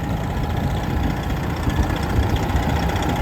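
A 2016 Peterbilt 389 pre-emission glider daycab idles nearby, its heavy diesel engine giving a steady, deep rumble with a faint knocking pulse, alone and unchanging from start to finish.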